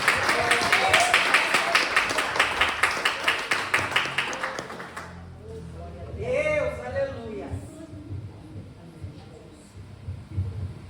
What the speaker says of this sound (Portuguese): Vamos receber a pastora Elaine com uma linda roda de palmas em nome de Jesus.